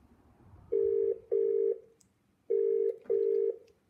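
Telephone keypad dialling for a call to a UK textile printing company: four clear, evenly loud touch-tone beeps in two pairs, heard alone with no talking.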